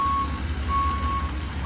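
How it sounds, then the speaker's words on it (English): A septic pump truck reverses with a steady run of regular backup beeps sounding over its loud, rumbling diesel engine idle. "Here comes the truck I was expecting."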